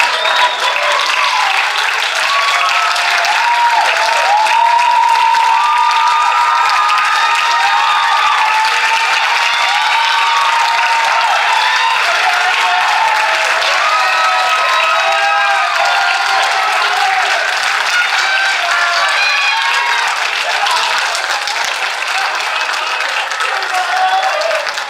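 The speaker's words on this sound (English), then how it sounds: "Can I get all the poets on stage for one more big round of applause" A large audience at a high school poetry slam gives the poets on stage a big, sustained round of applause, dense clapping with some cheering that stays loud and steady for the whole stretch.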